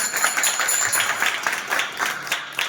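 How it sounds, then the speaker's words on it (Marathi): An audience at a devotional kirtan performance applauding, a dense, steady wash of many hands clapping throughout, fairly loud and uninterrupted. "जोरदार टाळ्या वाजवून."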